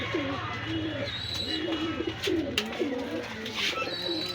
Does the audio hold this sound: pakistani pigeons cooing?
yes